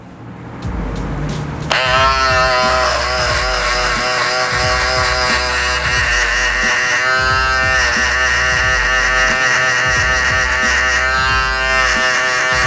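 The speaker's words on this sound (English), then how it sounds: "use my wall 5-star electric shaver to go ahead and get a closer cut to the client's head" A Wahl 5-Star electric shaver cutting hair close on a client's head during a barbershop haircut, a loud steady buzzing hum that switches on about two seconds in and runs continuously near the microphone, wavering slightly as it moves.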